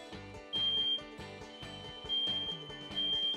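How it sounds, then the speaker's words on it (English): A household smoke detector sounds during a test-button check, giving loud, shrill alarm beeps in repeated bursts with no talking. "When testing your smoke detector, press the test button and listen for the alarm."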